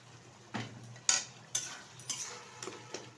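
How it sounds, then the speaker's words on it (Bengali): Spoon scrapes and taps through banana flower curry (mochar ghonto) with ghee in a pan, a handful of short, close clinks and stirring strokes at irregular intervals over a quiet background. "আবার একটু নাড়িয়ে দিচ্ছি।"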